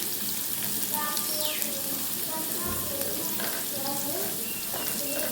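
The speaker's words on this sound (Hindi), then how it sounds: "किशमिश भी फ्राई होगी, जैसे फूलना शुरू होगी" Raisins and carrots fry for a tadka in a pan for Afghani Qabili pulao, a continuous bright sizzle with occasional stirring clatter close by, and a voice speaking briefly over the frying.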